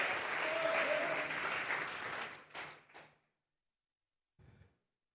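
A church congregation claps together during a sermon, a steady wash of applause for about three seconds that tapers off into silence, followed by a brief faint clatter.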